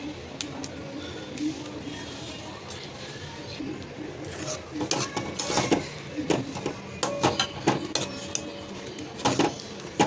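Fried soya chunks are stirred into gravy in a pan for a soya chilli, with a spoon scraping and clinking against the pan in irregular, increasingly busy strokes while someone talks over it.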